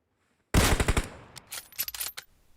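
Gunfire in PUBG Mobile: a loud, sudden burst of rapid shots, followed by several scattered, quieter shots that trail off.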